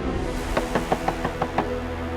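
Knocking on a wooden door, about seven evenly spaced raps in quick succession, close and clear over a quiet background hum.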